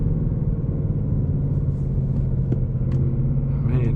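A 2024 Ford Mustang GT with the 5.0 V8 and six-speed manual gives a loud, steady, deep engine rumble heard from the cabin, holding an even drone throughout.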